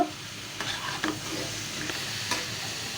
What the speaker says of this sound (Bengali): এই যে এখন ভাজিটাকে একটু লাড়া দিচ্ছি।